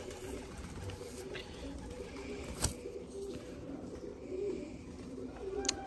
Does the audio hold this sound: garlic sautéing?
no